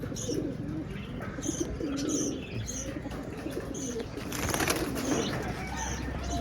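Trained tournament flying pigeons with colored plumage coo repeatedly in soft, rolling phrases, with a brief flutter of wings and light chirps against a steady background hum.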